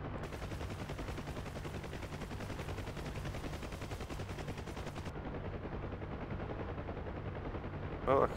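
Sustained rapid door gun fire from a UH-1H helicopter in DCS World, a dense, continuous automatic rattle over a low rotor and engine drone, loud and steady throughout with a brief sharper burst at the end.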